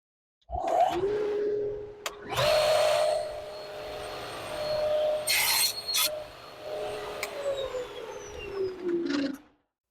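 A power saw spins up and slices a wooden piece for a cutting board, its steady whine dipping under load through the cut before winding down at the end.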